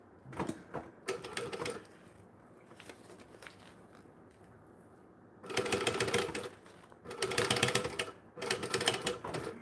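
Sewing machine top stitching fabric in bursts of rapid mechanical stitching, loud and close, separated by quieter pauses with small handling clicks.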